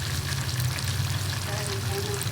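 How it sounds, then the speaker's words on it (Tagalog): Onion, garlic and ginger sauté in a pan for a vegetable dish, giving a steady, close, dense sizzle that holds evenly throughout with no talk over it. "Inisa ko lang siya sa sibuyas, bawang, luya"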